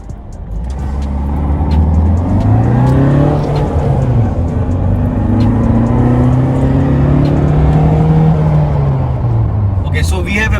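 Tata Safari XZ+ engine accelerating hard in first and second gear in city mode with the AC off, a loud rising engine drone climbing in pitch through each gear toward 5000 RPM, heard from inside the cabin.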